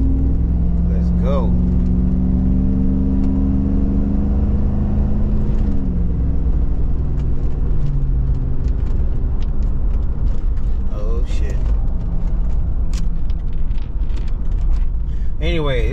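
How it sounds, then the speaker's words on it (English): A truck engine runs steadily while driving, a loud continuous low rumble with shifting tones as it accelerates, and people talk over it. "this truck still runs good"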